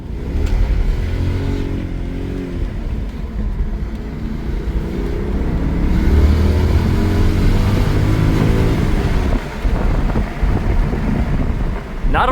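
A car fitted with a Dinan carbon intake accelerates hard in rising revving sweeps, loud and close, with wind buffeting the microphone and the engine note dropping and climbing again through gear changes.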